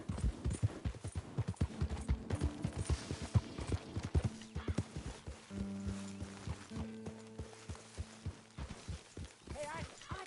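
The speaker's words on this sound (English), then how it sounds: "get that horse out here" Horse hooves clop in an irregular rhythm in Red Dead Redemption 2, mixed with snorts and background game sounds, with people talking over them.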